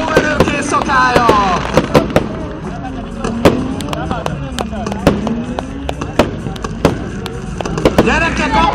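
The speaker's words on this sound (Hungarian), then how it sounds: "Láttatok már ilyen tűzijáték autóból?" Fireworks launched from a car at a night drift show: a rapid run of sharp crackling pops and bangs with whistling streaks, loud and close, under an announcer's amplified voice and crowd noise.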